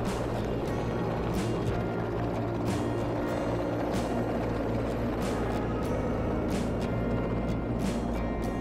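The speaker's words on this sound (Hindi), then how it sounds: "ये आप देख रहे हैं कि आर्मी के हेलीकॉप्टर्स हैं" Army helicopters operating over the Amarnath Yatra route near Panchtarni in the mountains, a steady mechanical rotor drone with recurring blade thumps, continuous and fairly loud with no voices.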